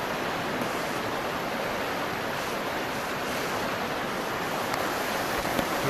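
A mountain river rushes past riverside cabins in Gallatin, Montana, a steady, even broadband roar of flowing water throughout with no talking.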